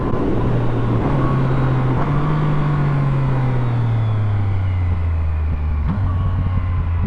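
A steady, low Yamaha MT-09 SP motorcycle engine drone with a throaty burbling rumble rising and falling slightly as it cruises, loud and continuous with road noise.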